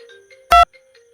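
Incoming-call phone ringtone in a comedy sketch: one short, loud electronic chime burst standing alone over a quiet background.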